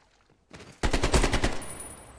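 Call of Duty gunfire: a rapid burst of automatic shots fires close and loud after a brief quiet lead-in, then tapers into a fading tail.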